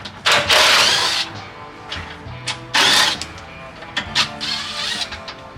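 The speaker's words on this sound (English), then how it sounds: "Give me a chance to use this new DeWalt 20 volt" A DeWalt 20 volt cordless power tool works on a Ford Ranger cross member during a floor pan replacement. It whirs and rattles in several short, loud bursts separated by brief pauses, up close, with no one speaking.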